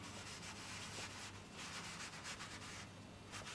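An eraser rubs back and forth on a painting surface during oil-painting work, giving a continuous, close scratchy swishing in repeated strokes, alone with no voice.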